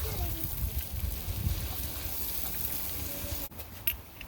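Chopped vegetables sautéing in bacon grease in a cast iron pan for sloppy joes, a steady soft hiss and sizzle throughout, ending with a brief clatter.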